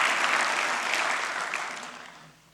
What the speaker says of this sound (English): You can clap for yourselves if you want,